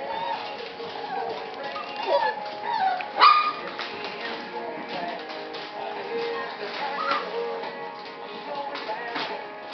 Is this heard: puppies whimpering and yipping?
yes